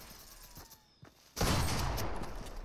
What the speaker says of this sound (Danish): Jeg ved ikke, hvem var det skudt efter mig?